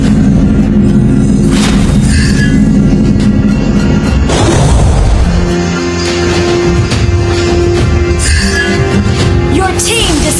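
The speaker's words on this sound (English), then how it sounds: "Your team destroyed a turret!" A turret is destroyed in the Mobile Legends game, giving a loud, heavy boom with crashing debris midway through, set against dense, continuous game effects and music.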